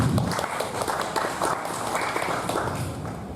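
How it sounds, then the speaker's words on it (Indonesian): Audience applause for a youth organization at a community youth-pledge event in Bantul, Indonesia: steady, dense clapping from a crowd that fills the whole stretch at an even level, with no voices over it. "Tepuk tangan untuk Karang Taruna."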